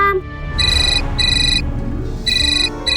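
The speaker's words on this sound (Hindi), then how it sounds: "तन्वी का तब से फोन आ रहा है" A phone rings with a repeating electronic ringtone, bright chirping bursts in an even pattern, loud and close.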